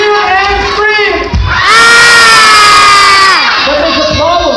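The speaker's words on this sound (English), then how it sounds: "they cheer and scream. They cheer and scream." A children's audience at a magic show erupts in loud cheering and high-pitched screaming, a dense rising roar of young voices that swells, holds for a couple of seconds, then eases back into scattered shouts.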